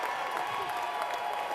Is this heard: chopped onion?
no